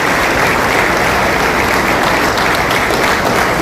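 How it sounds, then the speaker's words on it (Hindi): An audience at a traders' and entrepreneurs' dialogue event in Tigaon, Faridabad, applauds loudly and steadily, a dense wash of clapping that fills the whole stretch without pause. "खड़े होकर ताली बजा के धनखड़ जी को विश्वास दिलाओ"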